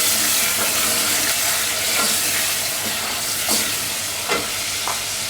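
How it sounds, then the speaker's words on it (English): Olive oil crackles and sizzles in a pan as tomato fries for a red sauce, a loud, continuous hiss with occasional stirring scrapes and pops close by. "I can hear the oil now crackling"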